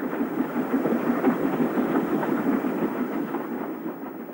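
An LMS 8F steam locomotive, number 7652, works hard up a steep gradient toward Evercreech Junction, giving a loud, steady rumbling beat with rhythmic chuffing pulses that eases slightly toward the end.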